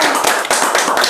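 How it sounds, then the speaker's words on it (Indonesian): An audience claps together for about a second, dense overlapping claps with a few sharper accents, close and loud, with no talking. "Tepuk tangan dulu dong."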